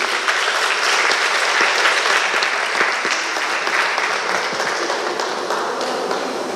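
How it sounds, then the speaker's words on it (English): An audience at a community police discussion on domestic violence breaks into sustained applause, a dense wash of many hands clapping at once that carries on steadily from start to finish. "I need a round of applause from you for my contribution"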